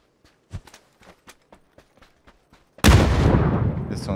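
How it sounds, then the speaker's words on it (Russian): A string of light tapping clicks and footsteps gives way to a sudden loud video game HE grenade explosion that roars and decays into a long crackling rumble. "Взрываю его хаешкой."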